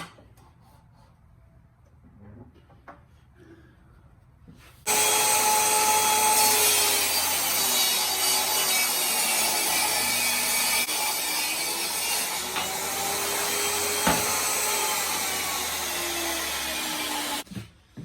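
A table saw with the fence set rips narrow wood strips, roughly 3 and 1.5 inches wide, in a wood shop; the blade starts abruptly and whines steadily and loud at close range for about thirteen seconds, then cuts off.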